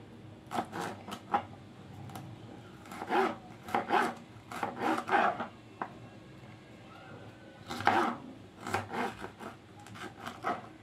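Bell peppers being cut into medium strips with a knife on a board, heard as bursts of close, scraping slicing strokes separated by short pauses.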